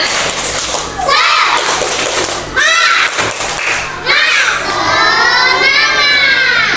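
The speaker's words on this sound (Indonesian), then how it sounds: "maka sekarang kita tepuk semangat dulu" Schoolchildren in a classroom chant the tepuk semangat spirit cheer together, loud shouted young voices broken by rhythmic claps and thumps, with a short pause in the middle.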